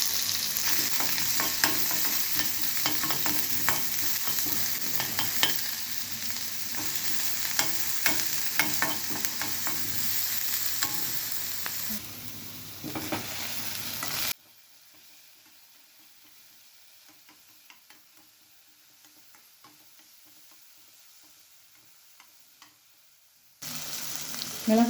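Mustard seeds, dried chillies, curry leaves and chopped onion frying in hot oil for vada kuzhambu, a steady close sizzle with stirring scrapes that breaks off midway into near silence before the sizzle returns at the end.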